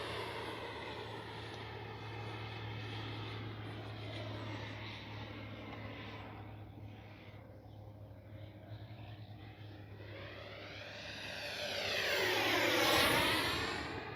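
A modded Freewing Yak 130 radio-controlled model jet whines steadily in flight, then sweeps past in a louder rising-and-falling pass near the end, with no talking.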